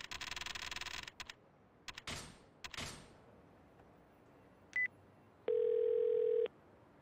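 A telephone dial tone from the video game Yakuza Kiwami 2: a steady, loud, clean hum lasting about a second. It follows a few earlier clicks and a short beep, with no talking.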